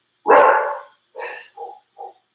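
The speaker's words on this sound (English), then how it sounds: "Anybody else's dogs bark at everything, including the garbage truck?" A dog barking close by, one loud bark followed by three shorter, quicker ones in a sharp, isolated burst.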